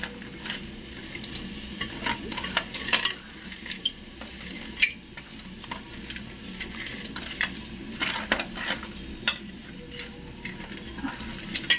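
Crabs fry in a hot pan outdoors, a loud continuous sizzle broken by frequent metallic scrapes and clanks as a utensil stirs them, close and without talk.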